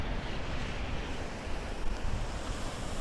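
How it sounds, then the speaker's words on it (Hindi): A mountain stream at Banihal in rainy, foggy weather, a dense continuous roar of rushing water that stays loud and even, mixed with some wind buffeting on the microphone. "और यह है बानीहाल का नाला"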